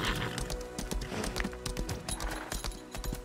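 Horse galloping in the video game Lost Ark, a steady rapid clip-clop of hooves over busy game music and effects, loud and continuous.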